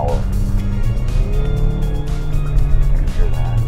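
A car engine purrs steadily while driving, a smooth low continuous hum with a faint whine above it, with people talking over it throughout.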